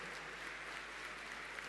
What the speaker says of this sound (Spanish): Yo pido un aplauso a los concejales que se ponen con la Junta de Vecinos.